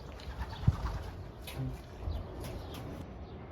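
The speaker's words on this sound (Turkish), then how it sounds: "Evet dostlar şimdi güvercinlerimizi dışarı salacağız" Homing pigeons cooing low and soft in a loft, with a brief burst of wing flapping and faint chirps over a steady background hum.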